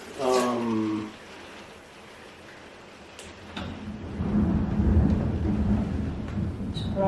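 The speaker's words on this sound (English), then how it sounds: "Oh, thunderstorm." Thunder from a storm rumbles low and steady in the distance, swelling in the second half and building to a heavier roll, after a brief voice at the start.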